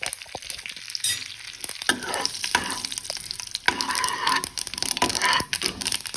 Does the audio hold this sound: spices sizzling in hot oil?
yes